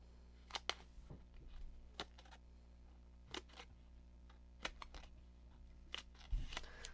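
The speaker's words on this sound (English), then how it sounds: "I need scissors again, because now I got edges to cut here." Scissors snipping the edges of paper card stock during a card-making craft session, a few sharp isolated snips spaced across a quiet room, fairly close and soft, with no talking.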